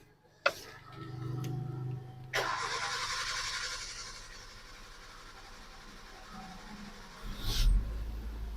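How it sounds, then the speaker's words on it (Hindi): A Maruti Swift Dzire diesel engine with a crank sensor fault gives a sharp click, then cranks for a long, steady stretch before it catches with a louder burst near the end. "गाड़ी स्टार्ट हो गई लेकिन काफी लंबा क्रैंकिंग लिया, काफी लॉन्ग सेल्फ लिया, उसके बाद स्टार्ट हो गई"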